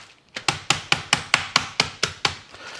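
Chicken in a bag is pounded flat on a kitchen counter with a steady run of about ten loud, evenly spaced thuds, close and dry.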